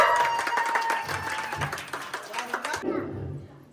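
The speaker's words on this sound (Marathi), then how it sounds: "टाळ्या वाजवा" A crowd of women at a village women's day celebration claps for a first-prize winner, a steady patter of applause with a voice speaking over it before the clapping thins and fades near the end.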